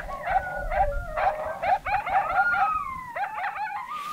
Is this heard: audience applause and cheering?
no